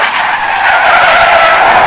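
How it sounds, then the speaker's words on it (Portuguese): Car brakes screech on a wet road, a loud, sustained tire squeal lasting about two seconds, close and alone with no talking. "O carro surge do nada. Um guincho de freios molhados."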